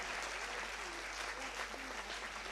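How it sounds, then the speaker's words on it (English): Applause from an audience at a CSIR International Women's Day event, steady broadband clapping that fills the whole stretch at moderate, slightly distant loudness, with faint room tones underneath. "Big round of applause for all these ladies"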